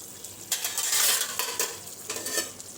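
A spoon scrapes and stirs meat in a sizzling pan, with several distinct scraping strokes over a soft background frying hiss, close and moderately loud.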